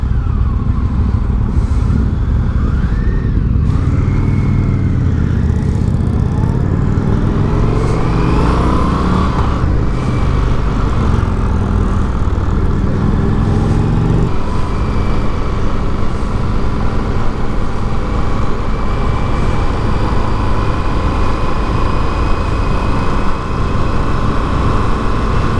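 An Indian FTR 1200 motorcycle engine drones steadily while riding, revving up through rising tones early on, then holding a loud, continuous engine note mixed with wind rush close to the rider.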